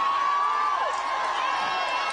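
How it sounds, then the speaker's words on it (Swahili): An outdoor crowd at a presidential event in Nairobi cheers and shouts continuously in welcome, a dense steady roar with high whistles and whoops rising above it. "Tumkaribishe kwa shangwe, furaha na nderemo tafadhali."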